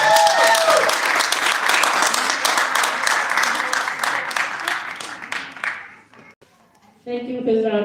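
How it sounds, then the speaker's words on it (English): Applause at a Pakistan Resolution Day flag-hoisting program rings out loudly for several seconds, fades into scattered claps, then talk resumes. "if I could please call her with a round of applause"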